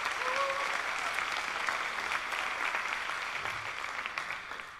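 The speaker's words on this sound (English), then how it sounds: "Clap for yourselves first" A live storytelling audience in Nairobi applauds itself, a broad, sustained roar of clapping that holds steady and slowly fades, with a brief voice heard near the start.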